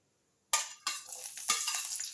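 Green chillies hit hot tempering oil with spluttered mustard seeds and cumin, starting with a sudden sharp sizzle after a brief silence, then a second burst and a steady crackling fry with light stirring, close and alone.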